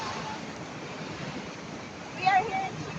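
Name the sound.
ocean waves at beach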